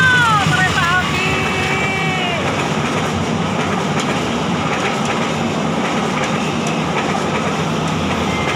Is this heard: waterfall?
no